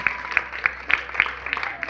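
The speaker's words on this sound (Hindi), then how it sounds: "हमारी प्रभा मैडम के लिए जोरदार तालियां हो जाए" An audience at an Earth Day gathering claps in a steady rhythmic beat, roughly three to four claps a second, moderately loud with faint voices underneath.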